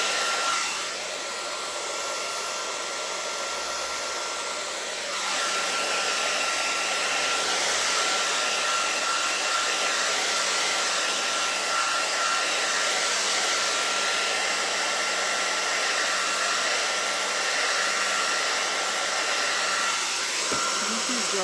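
Hair dryer blowing steadily on a freshly glued stencil for a Memorial Day sign, a loud continuous whoosh that swells slightly after a few seconds and runs unbroken throughout.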